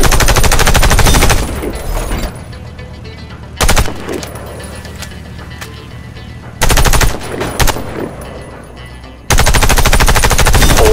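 Sustained bursts of automatic fire from a soldier's weapon in the Warface shooter game, three or four loud volleys separated by quieter stretches of background game sound.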